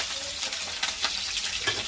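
Onions sizzling and frying in a pan for chicken curry, with a steady broadband hiss and a few louder crackles and stirring scrapes, close and alone without talk.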